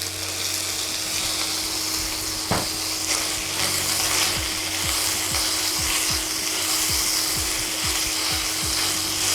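Pork pieces sizzle and fry steadily in a hot pan while being prepared as sweet sticky pork, with a constant loud crackle and occasional scraping stirs.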